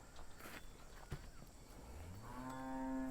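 A Murrah water buffalo in Maharashtra lets out a long, low moo that rises toward the end, close by over faint background noise.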